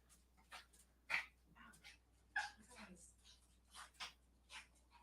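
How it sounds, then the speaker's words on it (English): Quiet dog whimpers and short yips come in scattered bursts, with a few soft barks, faint and close by. "The dogs are gonna kind of like flip out for a bit while they say hi to my friend Katie"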